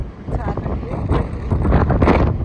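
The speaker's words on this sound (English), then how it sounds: "another windy day" Strong coastal wind at Wissant, France, buffets the microphone in loud, gusting rumbles that swell and ease, with a voice heard briefly.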